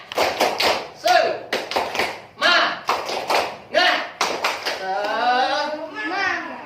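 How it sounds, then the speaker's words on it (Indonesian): Schoolchildren in a classroom clap in a patterned rhythm of bursts and pauses, mixed with children chanting along, fairly close and lively. "Tepuk tangan semuanya."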